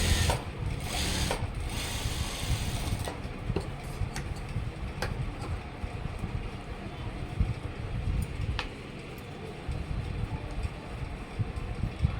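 Sewing machine stitching a school uniform chudidar coat, a busy close rattling, ticking mechanical noise running throughout with sharp clicks scattered across it.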